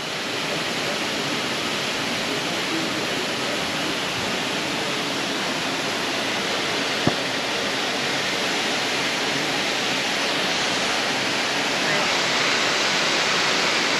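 A waterfall near Ordu, Turkey, with picnic spots below, roars as a steady, loud broadband rush of falling water, constant and unbroken throughout.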